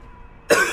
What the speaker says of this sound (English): I want this cough to go away so bad.